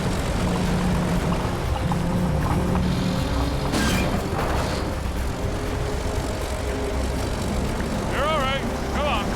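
D9 bulldozer engine working to pull a 140,000-pound-capacity winch on a 1.5-inch cable, a loud continuous low rumble and roar with a brief burst partway through, under nearby speech.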